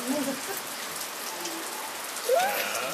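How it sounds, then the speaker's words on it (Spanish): Steady rain patters on a surface in a constant wash of drops, with faint brief voices near the start and end. "Ya viste que está lloviendo."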